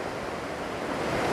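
Strong storm wind roars and rushes steadily through a forest, a dense and loud broadband noise with no voices heard.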